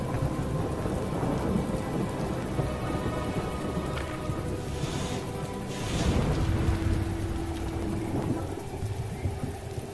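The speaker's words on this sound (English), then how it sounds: "And in this heavy rain too." Heavy rain pours steadily through a forest in the video game Myths of the World, with loud, rolling thunder swelling midway and no voices over the downpour.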